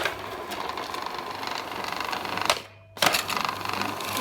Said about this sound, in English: now I'm going to get this and I'm going to whisk it